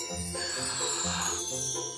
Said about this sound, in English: Jingly jingle bells!